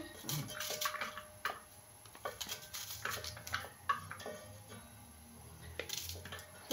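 Water poured into a pot for boiling pasta in a home kitchen, a soft steady splashing and trickling with faint drips and clinks, close by and fairly quiet.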